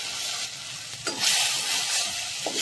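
Grated tomato sizzles in a pan, a close hissing fry that swells louder partway through, with a soft stir or scrape near the end.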